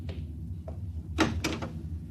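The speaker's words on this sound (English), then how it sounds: "Open the door." A door opens in a quiet interior, heard as a few faint clicks followed by a couple of sharper, louder knocks and latch sounds near the middle, with no talking.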